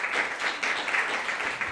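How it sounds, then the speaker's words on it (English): Audience applause at an awards presentation for a winner who also made the cover art, a steady wash of clapping from a crowd, moderately loud and continuous with no talk over it. "Rachel deserves an extra applause"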